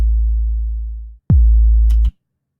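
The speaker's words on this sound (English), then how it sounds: "already we are getting that 808 sound" Two deep 808 bass notes synthesized in Serum with a clean sine attack, the first sustaining and slowly fading, the second starting with a sharp pitch drop and cutting off, loud and alone with no talk.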